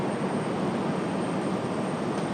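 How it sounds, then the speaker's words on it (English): An American Airlines Boeing 737-800 taking off, a steady broadband jet roar heard from a distance at an airport, constant and even throughout with no voices. "American Airlines 2363, that 737-800 off to Charlotte"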